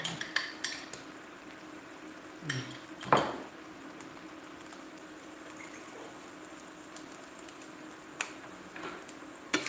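Breakfast burrito filling stirred and mashed in a pan, with irregular utensil scrapes and clinks against the metal, one louder knock near the middle, fairly close over a quiet background.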